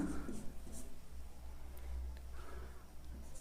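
Writing on a board during a Class 10 maths lesson comes through as faint, scratchy strokes over a low room hum, in short uneven bursts.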